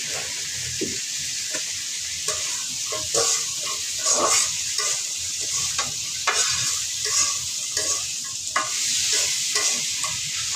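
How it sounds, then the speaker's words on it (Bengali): Dried fish frying in a pan with turmeric and chili, a loud, close sizzle with steady stirring and scraping strokes throughout. "এটা আমি একটু হলুদ মরিচ দিয়ে একটু ভেজে নিব।"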